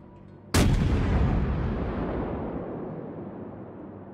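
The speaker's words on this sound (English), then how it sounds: "You get close enough with the battleship to engage your secondary batteries, and it is awesome." A battleship's secondary batteries fire in World of Warships, one sudden loud boom that rolls into a long, slowly fading rumble.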